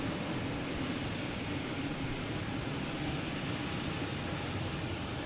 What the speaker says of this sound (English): And we have Boutique Air heading out of here.